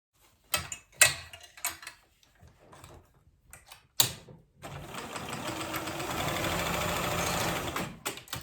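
A sewing machine basts a strap onto a tote bag, starting with a few short, sharp bursts of stitching, then settling into a long, steady run of loud, rapid stitching before stopping.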